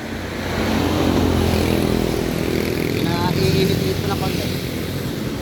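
A Honda TMX Supremo motorcycle engine, checked for weak pulling power, idles close by with a steady low drone and a slight rev in the middle, while a person talks faintly over it.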